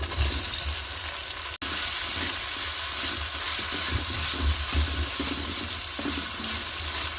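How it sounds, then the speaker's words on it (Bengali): Ginger garlic paste and chopped tomato fry with onions in a pan, giving a steady close hiss and sizzle that runs throughout with small crackles and one brief dropout. "এরপর এগুলোকেও পেঁয়াজের সাথে ভেজে নিব।"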